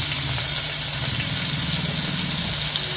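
Cumin and mustard seeds sizzling in hot oil while bajji palya, a North Karnataka Sankranti dish, is cooked: a steady, loud crackling fry that fills the whole stretch with no talk.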